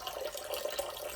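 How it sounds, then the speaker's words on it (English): Cold tap water runs steadily to rinse cooked prawns and asparagus in a kitchen, a continuous close splashing flow with no talk. "You refresh the prawn and asparagus under cold water."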